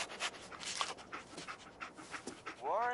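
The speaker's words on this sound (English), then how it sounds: "Dog meat. Get the scent, boy." Dogmeat, the companion dog in Fallout 4, pants in quick breathy bursts under a voice, with a short musical tone rising near the end.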